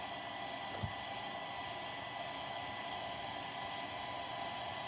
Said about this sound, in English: I'm just going to do it on my low setting and just dry it for a second.